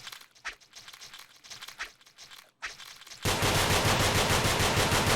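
Video game gunfire in a shooter takes down an enemy: a few scattered faint shots and rustles, then a dense, loud burst of rapid automatic fire that continues to the end.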